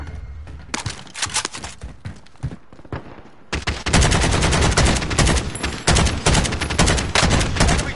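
Rapid bursts of AK rifle fire in the online shooter Warzone: loud, close automatic volleys, sparse at first and then nearly continuous from about the midpoint, with no talking.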